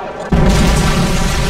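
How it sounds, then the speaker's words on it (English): In a Call of Duty Modern Warfare 3 online match, a predator missile strikes with a sudden loud boom that cuts in sharply after a brief quiet lead-in and rolls on as heavy, sustained rumbling. "Friendly predator missile inbound."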